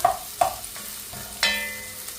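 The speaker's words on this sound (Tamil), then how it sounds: "இந்த வெங்காயம் நல்லா வதக்கி கொடுக்கணும்" Onions sautéing in a pan for a crab masala, with a few sharp spoon knocks and scrapes and a short burst of sizzle, close by under a quiet background hiss.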